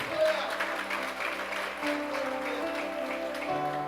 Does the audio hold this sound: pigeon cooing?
no